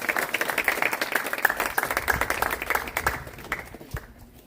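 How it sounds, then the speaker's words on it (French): An audience applauds at the inauguration ceremony of a municipal library in Anse-à-Veau, dense steady clapping that swells and then fades out toward the end. "s'il vous plaît. Applaudissez."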